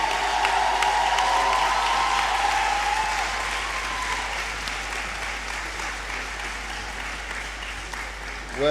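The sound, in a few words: audience applause at congregation ceremony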